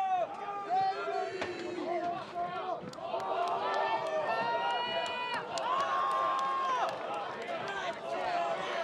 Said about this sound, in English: you can hear that the crowd are really starting to warm up to the French team